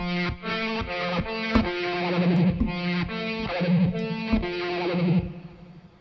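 A gritty, distorted IK Multimedia Syntronik synth run through a tube amp effect plays a choppy rhythmic pattern of repeated chords, sustained with a saturated, overdriven edge before fading out at the end.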